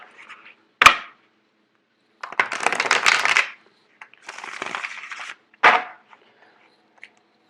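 Tarot cards are shuffled in a few quick bursts, crisp riffling and snapping sounds separated by short pauses, close and fairly quiet.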